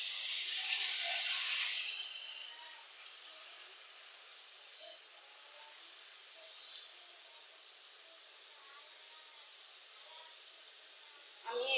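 Garlic and ginger paste fries in a pan as it is stirred, giving a loud hissing sizzle at first that settles into a softer, steady crackle.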